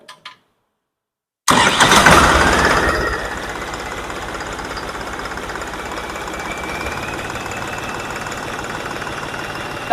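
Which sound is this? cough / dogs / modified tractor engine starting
modified tractor engine starting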